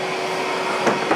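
A vacuum cleaner running with the crevice tool removed, a steady close whirring hum with a faint tonal whine and a couple of slight bumps near the end.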